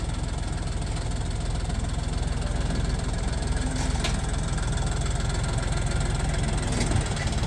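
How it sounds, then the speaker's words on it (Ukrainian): A tractor engine idles steadily with a low, even rumble and faint knocking pulses, close by and continuous throughout. "Ось трактор вже і добрався до нашої інсталокації."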